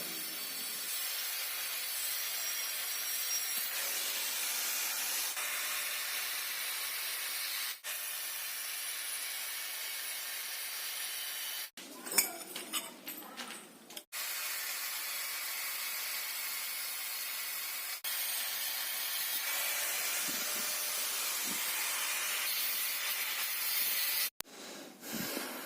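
Metal chain socket pieces are cut for a homemade bearing puller, a steady hissing, grinding cut running for long stretches with two short breaks that carry rougher, uneven scraping.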